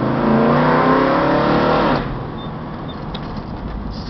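A 1967 Dodge Dart drag car with a 383 stroker engine and 373 rear end rumbles loudly close by, a steady harmonic engine drone for about two seconds that then drops to a quieter, rougher idle.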